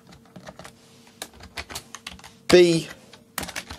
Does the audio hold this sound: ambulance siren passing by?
no